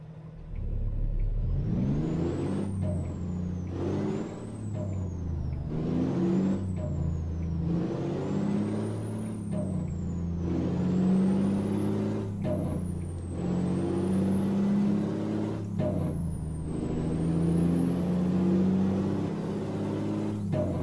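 A Kenworth K200 semi truck hauling a heavy load in American Truck Simulator revs up and shifts repeatedly, each rising engine whine dropping sharply at a gear change, loud and sustained with no voices.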